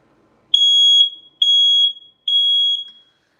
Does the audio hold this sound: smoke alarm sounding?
yes